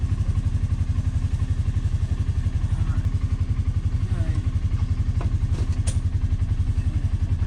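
A Polaris Ranger utility vehicle, fresh battery just installed, runs with a steady, rapid engine thrum close by, holding an even idle-like pulse throughout while people speak briefly nearby.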